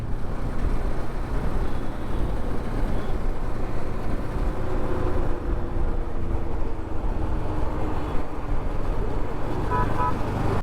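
Dense road traffic in Nagpur, India, with a steady roar of engines rumbling close by and a couple of faint horn toots near the end.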